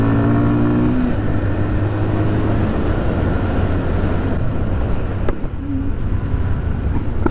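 A fuel-injected Zontes Mantis 125 motorcycle engine runs at a steady, loud, close drone, its pitch shifting slightly as it holds revs, with no pauses throughout.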